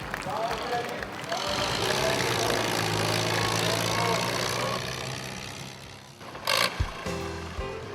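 A loud 15 horsepower John Deere two-cylinder antique tractor engine drones steadily through most of the stretch at a county fair tractor pull, easing off near the end, with voices and crowd noise mixed in.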